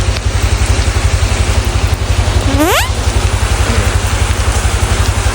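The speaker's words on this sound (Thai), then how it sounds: "เป็นหนึ่งวันที่ฝนตกแต่เช้า แล้วแม่งก็ตกแบบกวนตีนด้วย" Motorcycle engine idling with a steady rapid low throb, heard up close and loud under a constant wash of heavy rain noise, with a brief rising whistle-like sweep near the middle.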